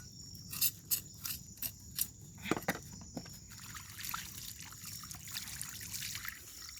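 Running water trickles and splashes in short, uneven bursts as something is rinsed out by hand, fairly faint and close, over a steady outdoor background.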